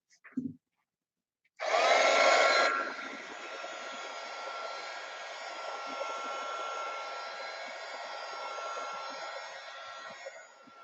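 A dryer roars on suddenly after a short quiet pause, blasting loudly for a moment and then settling into a steady, continuous whine as it dries a coat of shellac, close by, with no talk over it.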